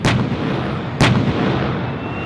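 Tank main gun firing during a best-tank-crew competition range event, two heavy booming shots about a second apart, each followed by a long rolling echo, at a moderate distance.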